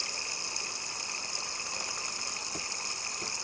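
Water runs into a sailboat's freshwater tank with a constant hiss and a humming tonal drone, steady and unbroken, plus a couple of soft knocks near the end.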